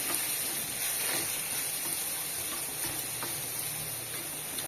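Grated coconut sautés in a pan for a coriander thuvaiyal, giving a dense, even frying hiss up close that runs without a break before cutting off abruptly.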